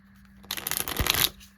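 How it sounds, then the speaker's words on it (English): A deck of tarot cards being shuffled, one quick riffling burst of flapping cards lasting under a second, close and clear in a quiet room. "Okay, hold on. Let me shuffle."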